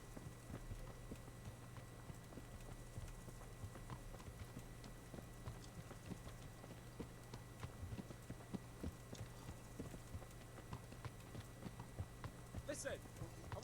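Horse hooves clip-clop steadily in a medieval-world video game (Kingdom Come: Deliverance style, Henry of Skalice) on extreme mode, a soft continuous patter under a low background hum and ambient game sound.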